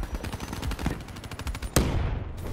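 Video game gunfire rattles in rapid automatic bursts, loud and close, with a sharper crack standing out partway through and no voices over the shots.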